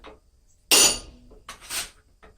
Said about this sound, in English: we're going to cut in our mouth with a slit chisel. Give it some just good, meaningful blows.